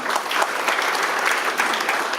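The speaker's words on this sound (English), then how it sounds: "Give Harold a round of applause, please." Audience applause fills the room as a steady, dense wash of clapping that stays close and loud throughout, with no voices rising above it.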